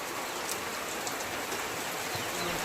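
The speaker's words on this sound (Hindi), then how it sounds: "देखिए कितना ज़बरदस्त बारिश हो रहा है।" Heavy rain pours steadily in a constant hiss, drops pattering densely on surfaces nearby.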